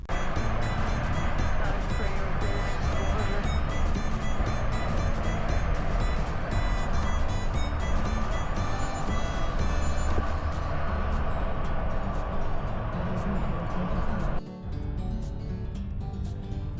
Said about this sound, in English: As we're driving through St. Louis, we are experiencing driving difficulties.